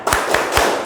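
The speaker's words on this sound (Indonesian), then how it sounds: "terlebih dahulu kita adakan tepuk semangat dulu" A class does a rhythmic spirit clap: three sharp, loud group claps in quick, even succession, close by with no talking.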